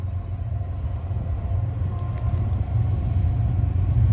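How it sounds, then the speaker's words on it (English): A heavy intermodal freight train rumbles past with a deep continuous low roar and faint metallic clatter, steady and fairly loud throughout, no talking. "Another intermodal train."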